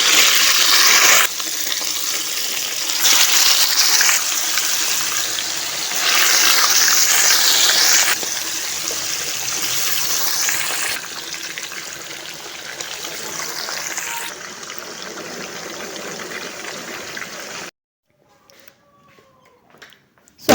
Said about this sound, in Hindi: अब इसमें डालते हैं फ़िश।